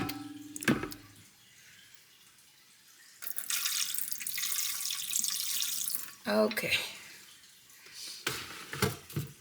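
Tap water runs in a steady, hissing stream while a tamale pot fills, lasting a few seconds between quieter stretches with clinks and a brief spoken word.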